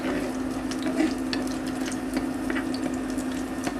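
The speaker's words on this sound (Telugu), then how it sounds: "ఆయిల్ లైట్గా హీట్ అయిన తర్వాత పద్నాలుగు వెల్లుల్లి రెబ్బలను చెదుక్కొట్టుకుని వేసుకోవాలి ఇప్పుడు వీటిని లో ఫ్లేమ్లో ఫ్రై చేసుకోవాలి" Fourteen crushed garlic cloves fry in lightly heated oil over a low flame for a tamarind coconut chutney, giving a continuous soft sizzle and bubbling with faint stirring and no talk.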